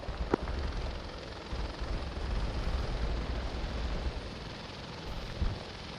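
Helicopter rotor and engine roar in a military co-op game set on Sahrani, a steady loud broadband drone lasting throughout with a few sharp impacts near the start and end.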